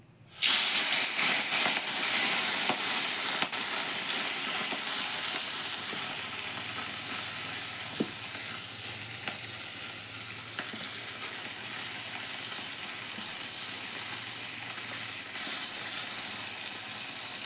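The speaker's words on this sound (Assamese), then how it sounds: "আৰু এয়া মাছ ফ্ৰাই কৰি লওঁ" Fish frying in a pan, a continuous loud sizzle and hiss that starts abruptly and holds steady, close up and without any talking.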